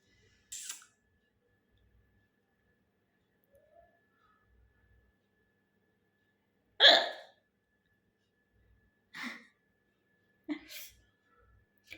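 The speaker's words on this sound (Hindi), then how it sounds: "हिचकी आ रही ना।" A person hiccuping, four short, sharp hiccups spaced several seconds apart in a quiet room, the second one loudest, close to the listener.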